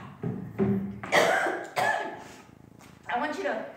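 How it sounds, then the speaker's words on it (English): A man coughs repeatedly during an evening church service, several harsh close coughs and throat clearing in a ragged sequence. "I want you to read that through about three times while I'm coughing."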